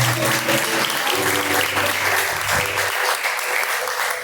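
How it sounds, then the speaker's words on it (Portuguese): A church congregation claps loudly in praise of Jesus during a live worship service, continuous dense clapping over faint sustained music or singing. "As palmas que louvam o nome de Jesus."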